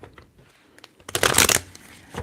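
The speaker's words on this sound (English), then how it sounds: "make sure I'm getting a lot of like mixing up the deck" Tarot deck shuffled by hand for an ASMR reading, with faint soft taps, then one short loud riffle burst up close before quieting.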